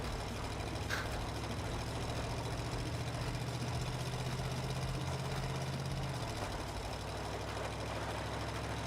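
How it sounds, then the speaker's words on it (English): Boat engine in Ship Graveyard Simulator 2, a steady low idling drone with a faint rumbling knock, held at an even level and then easing slightly toward the end, with no voices. "That engine noise is also authentic."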